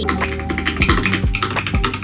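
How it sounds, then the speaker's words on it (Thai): Typing on a keyboard tuned for a soft, creamy sound on a home desk setup, a quick uneven run of close, muted keystrokes with a few deeper thocks standing out. "นี่คือคีย์บอร์ดที่จะทำให้คุณเสียงครีมมี่"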